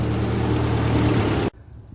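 A Ford 8N tractor engine running loud and close with a steady low chug and harmonic drone, which cuts off abruptly about one and a half seconds in, leaving only faint background.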